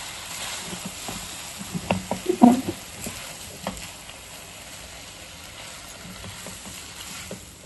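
Veg hakka noodles being stir-fried with sauces over a high flame, a low sizzle with scraping and tossing clatter peaking in a short burst, then settling into a quiet steady fry.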